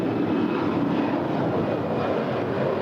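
An Alaska Airlines A320 departs LAX for Seattle. A steady, loud broadband jet engine roar fills the whole stretch without letting up, and no voices can be heard over it.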